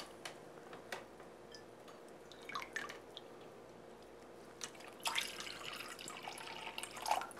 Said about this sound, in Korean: 물을 넣어서 이제 소금물을 만들어줘야 돼요